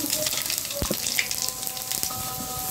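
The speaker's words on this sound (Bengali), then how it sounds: "এদিকে কড়াইতে তেল দিয়ে দিয়েছি, ফোড়নে দিলাম একটা তেজপাতা, 2টা তেজপাতা, এক টুকরা দারচিনি, দিয়ে দিলাম কয়েকটা গোটা জিরা।" Bay leaves, a piece of cinnamon and whole cumin seeds frying in hot oil in a wok, giving a steady broadband sizzle with a few sharp pops and clinks, fairly close and without talk.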